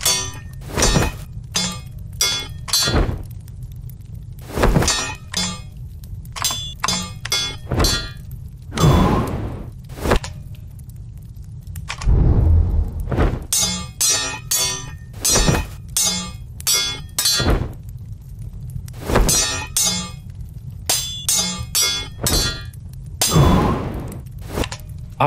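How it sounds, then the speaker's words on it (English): Sword-clash sound effects laid over a scene by pressing buttons, a rapid run of sharp metallic clangs and thunks in irregular bursts, loud and close, with no talking. "I have a bin with different sword sounds, so I can just press one button to add different sounds when swords are clashing"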